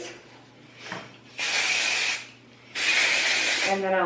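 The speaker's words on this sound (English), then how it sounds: "I'm just gonna take my my Windblown and I'm gonna spray down her hair" Windblown hair spray misted onto hair during beach-wave styling, two sustained bursts of close hissing spray about a second each, separated by a short pause, with a soft voice briefly between.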